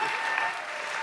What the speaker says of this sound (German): Applaus unserem Domhab!